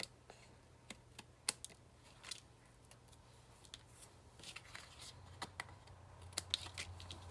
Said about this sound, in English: Now I can just flip this over and trim my edges off.